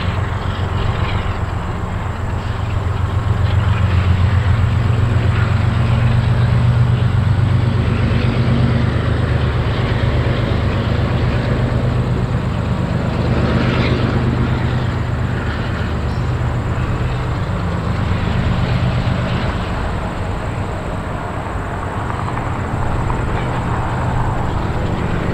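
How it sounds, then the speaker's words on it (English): A CSX double-stack freight train rolls past at a rail junction in Toledo, Ohio, a continuous loud rumble and rattle of wagons with a steady high whine, close and unbroken, with no talking. "So it's our 151 from earlier, and there's another double stack train."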